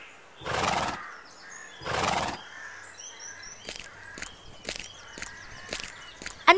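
Cartoon horse neighs twice in loud, drawn-out whinnies, followed by a run of quick hoof clip-clops and light chirping effects in an animated folk tale scene.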